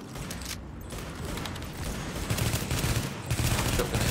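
In the video game The Division, close-range combat fills the scene with a flurry of gunfire, including shotgun blasts, alongside mechanical clicks and rattles that grow denser and louder toward the end.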